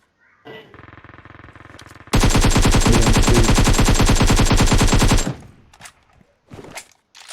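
Rapid automatic gunfire in PUBG Mobile, a lighter burst first and then a loud, sustained close-range volley of about three seconds, followed by scattered fainter shots and game noise.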